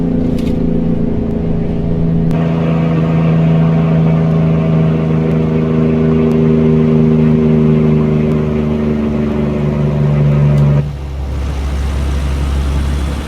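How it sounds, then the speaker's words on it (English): An International Emeryville truck in American Truck Simulator, its engine droning loudly and steadily under load for about ten seconds, then dropping abruptly to a lower, quieter rumble as the revs fall, with no speech. "Good sounding engine."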